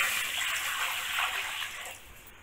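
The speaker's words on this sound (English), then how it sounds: "Now I have taken 1 glass of rice, so I am adding 3 glasses of water." Water pours steadily into a cooking pan for boiling rice, a continuous close gushing splash that tapers off near the end, with no talking.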